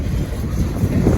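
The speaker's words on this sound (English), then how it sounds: "Windy." Strong wind buffets the microphone beside a railway line while a long Norfolk Southern freight train picks up speed, a loud, steady low roar with gusty surges and no voices.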